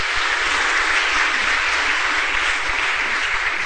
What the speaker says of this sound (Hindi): अगर आपको गौरव लगे तो ताली बजाना।